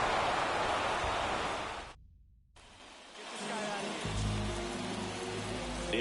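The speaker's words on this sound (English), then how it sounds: "This rain is not letting up." Steady rain hiss falling on a baseball field in the video game MLB 24, dense and continuous, cutting out briefly and returning with a low hum beneath it.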